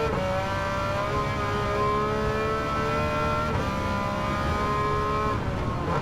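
Race car engine in Gran Turismo 7, driven without traction control, a loud sustained whine with steady revving and shifting pitch, heard alone without speech.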